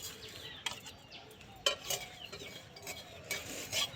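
Whole spices fry in a kadai for a cauliflower-bean chop dish, heard as faint sizzling under intermittent scraping and clinking of a spatula being stirred against the pan.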